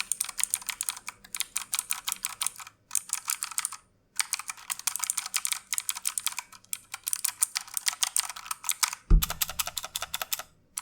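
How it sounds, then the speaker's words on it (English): Steady bursts of typing on a Logitech G613 mechanical keyboard with Romer-G tactile switches, soft tactile clacks, close and fairly loud, pausing briefly between runs, ending with one heavier thump. "this is a mechanical keyboard that does use Romer G tactile switches"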